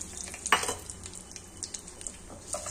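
Peanuts and curry leaves fry in hot oil with a soft, steady sizzle, broken by a few light scrapes and clinks of a stirring spoon against the pan.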